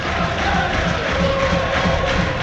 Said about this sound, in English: Again the crowd get going.